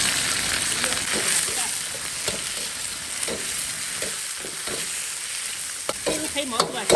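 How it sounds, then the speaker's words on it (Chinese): Fatty black-haired pork stir-fried in a hot wok to render out its fat: a steady close sizzle and crackle broken by repeated scraping stirring strokes throughout. "就炒一下，把油煸出来"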